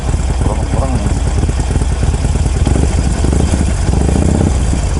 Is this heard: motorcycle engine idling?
yes